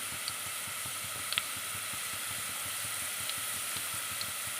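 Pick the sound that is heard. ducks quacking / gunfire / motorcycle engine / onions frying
onions frying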